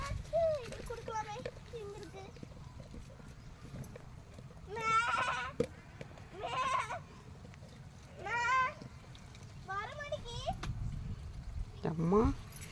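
Goats and small young kids bleat on a farm in a series of short, wavering cries spaced a second or two apart, near and fairly loud, with a voice talking quietly between the calls.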